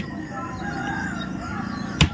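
A rooster crows outdoors, a drawn-out call rising and falling over a steady background hum, with a brief sharp knock near the end.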